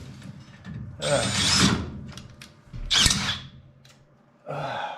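A power drill whirs in two loud bursts, then a shorter third burst, with quiet gaps and faint clicks between them.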